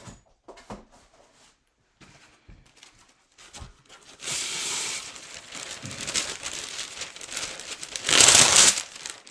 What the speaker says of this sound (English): I'm using parchment paper.